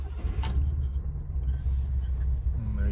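A 1972 BMW Bavaria engine, already warm, starts in neutral with no throttle and settles into a steady, close, low rumble.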